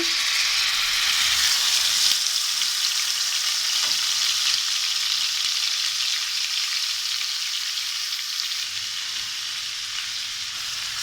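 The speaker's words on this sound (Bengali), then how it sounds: "আমাদের তেলটা গরম হয়ে গেছে এবার আমরা বেটে রাখা মিশ্রণটি এর ভিতরে" Ground mustard paste for hilsa frying in hot mustard oil, a loud continuous bright sizzle that holds steady and fades slightly over several seconds, close up and without speech.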